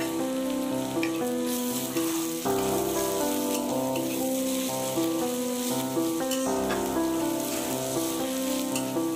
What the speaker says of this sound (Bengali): এবার মশলাটা ভালো করে কষিয়ে নিতে হবে।